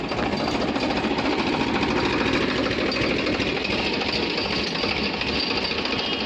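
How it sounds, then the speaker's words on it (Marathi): A tractor in a farm field, just revived after stalling, runs with a steady loud rattling engine drone that holds constant from start to end without speech. "आता हे ट्रॅक्टर चालू करून देणार आहे"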